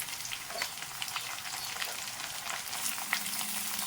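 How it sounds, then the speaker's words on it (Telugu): Mutton pieces frying in a pan with curry leaves tossed in, giving a soft, steady sizzle with scattered small pops and crackles, moderately close and without speech. "బాగా వేగుతుంది కూడాను. ఇప్పుడు ఇందులో కరివేపాకు వేసేద్దామండి."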